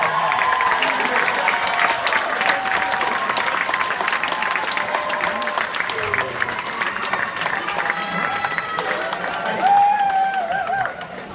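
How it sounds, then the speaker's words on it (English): Graduation ceremony audience applauding in a large hall, dense sustained clapping with a few scattered cheers and crowd murmur, steady and loud throughout, with some voices mixed in. "give them a big round of applause"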